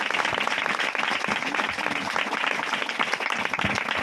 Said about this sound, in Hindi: सब जन ताली बजाइए प्रभु यीशु मसीह के लिए